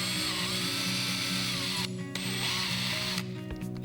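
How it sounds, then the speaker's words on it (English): Steady whirring of a drill boring out an old damaged thread in the swing arm of a 1992 Suzuki RM250 for a helicoil repair, continuous mechanical drone with brief dips in pitch. "Firstly, the old thread is drilled out."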